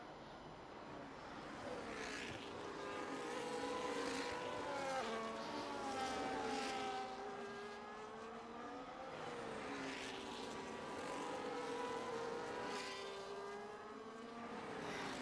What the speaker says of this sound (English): And Felix seems to be losing time from karts